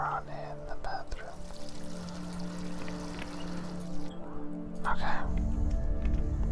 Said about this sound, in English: Oh no, someone left the water on in the bathroom.